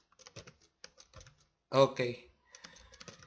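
Keys clatter on an English-layout computer keyboard in quick, light bursts of clicks, with a brief spoken word in the middle.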